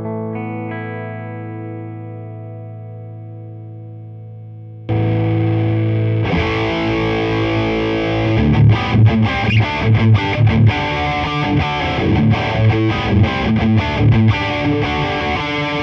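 Electric guitar played through an EMMA Electronic ReezaFRATzitz distortion pedal, opening with a few seconds of sustained clean chord before loud, dense distorted chords and chugging rhythmic strums take over, alone with no talking.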